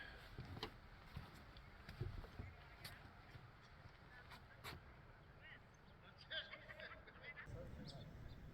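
A goose honks intermittently on a hike along the Redrock Boardwalk, faint scattered calls over outdoor ambience with footsteps and occasional voices in the background.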